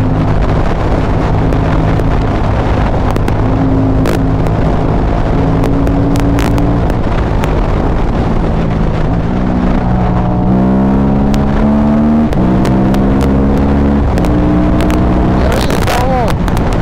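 A 2005 KTM 950 SM supermoto motorcycle being ridden, its V-twin engine droning loudly with rising and falling revs under heavy wind buffeting, while a rider talks over it.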